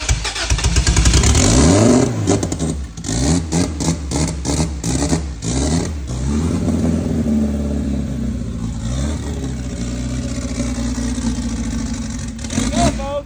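A car engine running after a glued head gasket repair cranks and catches, then sputters and revs unevenly before settling into a loud, steady idle, with people talking nearby.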